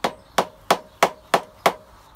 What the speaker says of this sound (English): A couple of little gentle taps with a rubber mallet should